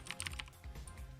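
Keys on a mechanical keyboard clack in a quick, close burst of several strokes, fairly quiet, with a low hum underneath.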